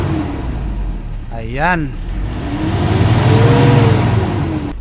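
The engine of a Toyota Innova with a blacked-out instrument panel revs up from idle into a loud, rising, sustained roar, with a brief whine and a short spoken word beforehand.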